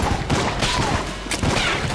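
Rapid gunfire volleys from the bullet-hell game Enter the Gungeon, loud and dense, with overlapping shots and bursts filling the whole stretch.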